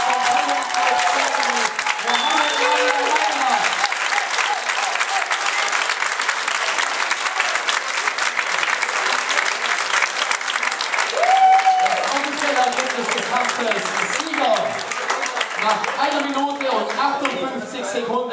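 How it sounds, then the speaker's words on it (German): Sustained applause from a boxing audience fills the arena after a knockout, dense and steady clapping throughout, with an announcer's voice over the crowd. "Ein besonderer Applaus"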